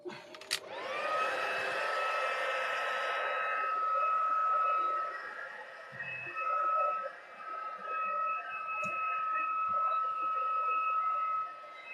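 A hair dryer blows steadily over acrylic paint on a flower path painting, a loud continuous whir that settles into a sustained tonal hum, running alone without talk.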